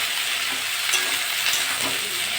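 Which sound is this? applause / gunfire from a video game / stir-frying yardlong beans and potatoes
stir-frying yardlong beans and potatoes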